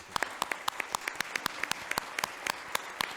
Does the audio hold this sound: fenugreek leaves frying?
no